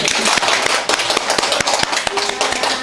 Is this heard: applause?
yes